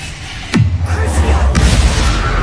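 A sharp bang from the Bombarda spell in the video game Hogwarts Legacy, followed by a deep falling boom and a second fainter pop, all over a dense, busy rumbling game background.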